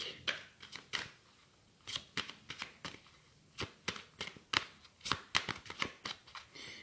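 Oracle cards being shuffled by hand, a rapid series of crisp riffling flicks in uneven bursts, close and fairly quiet with no speech.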